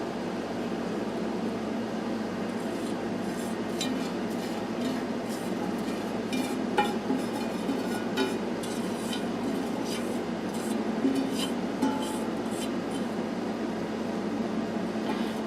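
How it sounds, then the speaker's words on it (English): A utensil scraping out a pan of coffee butter, a steady close rasping and scraping with light metallic clinks over a constant background hum. "scrape a pan out here"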